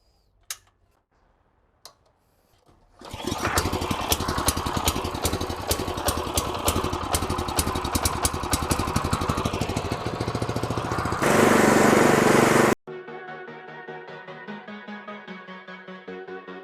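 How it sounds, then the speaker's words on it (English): A lawn mower running on a backyard lawn, quiet clicks and then a loud steady engine drone with a ticking rhythm for about eight seconds before cutting abruptly into music. "first things first, I'm going to go ahead and give it a fresh mow"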